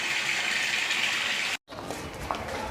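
A tap runs hard into a red drum, a steady hissing rush that cuts off abruptly partway through, leaving a quieter, clattery background.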